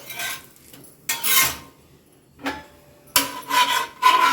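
A metal spatula scrapes and rubs across a hot pan to lift a mudakathan keerai dosa, several rough scraping bursts separated by short pauses, close and fairly loud.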